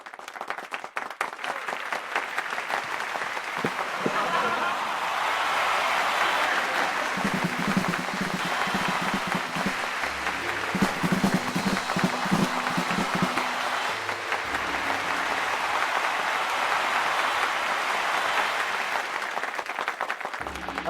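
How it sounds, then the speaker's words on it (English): Live audience at Unraid's 20th anniversary event bursts into sustained applause and clapping, a dense, steady wash of many hands that swells and holds for about twenty seconds with no talking over it. "We saw exactly where your claps came from."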